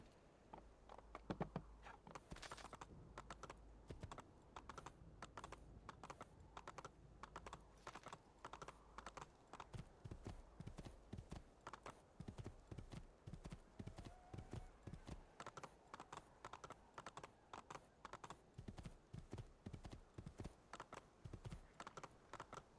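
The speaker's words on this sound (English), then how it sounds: "Might as well get on the horse, because why not?" In the video game Assassin's Creed 2, steady clip-clopping horse hoofbeats trot along in a fast, even rhythm, fairly quiet, with a faint background ambience and no talking.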